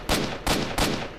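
Three loud gunshot bursts, evenly spaced and close, each cracking sharply before a short decay, from weapons fired in the video game S.T.A.L.K.E.R.: Shadow of Chernobyl.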